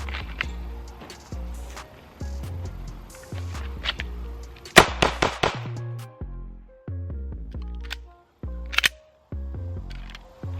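A Smith & Wesson M&P Metal pistol fires a series of sharp, loud shots at an outdoor range, spaced irregularly with a few quicker pairs and short pauses between them.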